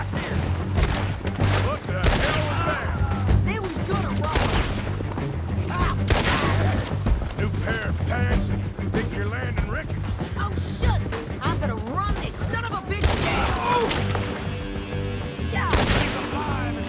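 Gunfire in the Red Dead Redemption 2 video game: rapid, dense bursts of shots and booming blasts over a low continuous score, with a voice talking over the shooting throughout.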